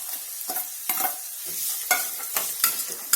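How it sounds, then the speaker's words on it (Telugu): Soaked, boiled peas frying in oil with onions for a samosa filling, close-up sizzle broken by repeated scraping stirs of a spatula at an irregular rhythm. "మనం బఠానీలు కూడా నూనెలో మంచిగా వేగుతాయి."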